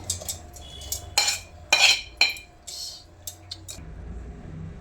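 A spoon scrapes and clinks against metal as cooled roasted spices for brinjal masala are transferred into a mixer jar, with several close, irregular taps and scrapes over quiet background noise.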